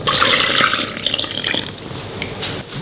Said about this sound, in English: Now we can add in our frothy yeast liquid into the bowl with the flour.